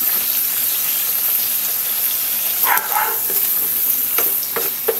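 Sapsap fish and sitaw (string beans) fry in a pan while being stirred, giving a constant loud hiss of sizzling oil and a cluster of sharp utensil knocks near the end, with no speech.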